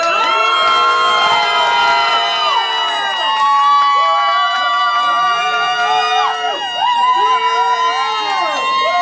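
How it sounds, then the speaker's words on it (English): A rap battle crowd at a Showdown Series event screams, whoops and cheers loudly and continuously, with shrill siren-like wails rising and falling over the dense roar. "Y'all screaming like that"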